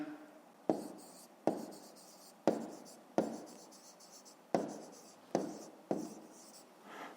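Pen writing on paper during a fifth-grade math exercise, sounding as a series of about eight distinct scratchy strokes in a steady rhythm, close and fairly quiet, with no talking.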